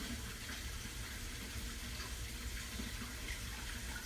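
Warm water runs steadily from a tap while cleaning a vintage Vitamix 3600 blender, a soft, even hiss of flow with no pauses and no voices.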